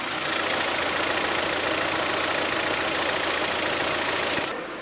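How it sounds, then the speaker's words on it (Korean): Hyundai Sonata engine idling with the hood open, a steady, close-up mechanical hum and whir that holds at an even level before cutting off near the end. "네, 엔진 소리 아무런 문제 없습니다."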